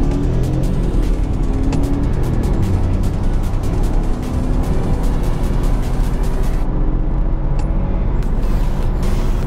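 A BMW F30 318i with 136 hp pulls hard from standstill toward 100 km/h, heard from inside the cabin as a loud, continuous engine and road roar with a brief dip near a gear change.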